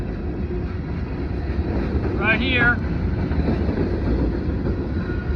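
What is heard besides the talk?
mixed freight train passing at Davie, West Virginia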